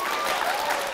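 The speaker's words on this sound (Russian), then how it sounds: "Аплодисменты." Studio audience applause on a Friday-evening television comedy show, a steady even wash of clapping that fills the whole second at moderate loudness.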